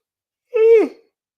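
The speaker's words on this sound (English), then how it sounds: "You can now listen to me yawn in HD." A single short, breathy yawn with a rising then falling drawn-out vocal tone, close and alone in silence.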